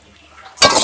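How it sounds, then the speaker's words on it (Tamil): Small shallots dropped into hot oil in a pan for tempering while making a South Indian mutton thanni kuzhambu, giving a sudden loud, close sizzle that bursts in and holds steady after a quiet moment. "இப்போ இந்த சின்ன வெங்காயத்தை சேர்த்து வணக்கிக்கலாம்."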